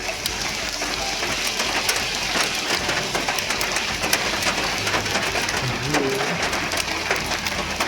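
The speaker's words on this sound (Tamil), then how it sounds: "ஆனா திடீர்னு இன்னைக்கு ஒரு மழை அடிச்சது, அதுவும் ஆலங்கட்டி மழை அடிச்சது." A hailstorm in Ooty pours down as a dense, constant patter of falling ice and rain, loud and steady throughout the whole stretch.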